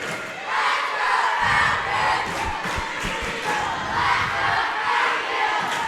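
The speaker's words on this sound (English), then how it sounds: "Both sets of cheerleaders are trying to get the crowds fired up." A crowd at a boys' school basketball game against East Hickman, stirred by cheerleaders, roars and chants in loud, rhythmic waves that fill the gym.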